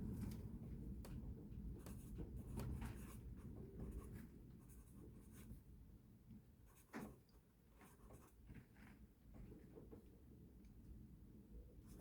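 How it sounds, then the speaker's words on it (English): Pen scratching across paper to write down a goal during a New Year release and manifestation ceremony, with continuous close strokes and small taps over about twelve seconds. "the last thing I want you to do is I want you to write down one goal"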